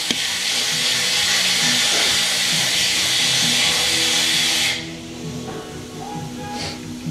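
A leak down tester pumps air into a Duramax diesel cooler, giving a loud, steady hiss of pressurized air for several seconds before it cuts off, with faint clicks and fainter hissing after.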